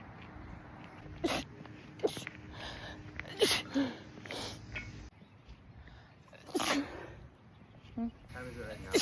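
Sneezing fit set off by sunlight: a run of sharp, close sneezes and snorts in quick succession, with breathy pauses and short bursts of talking between them.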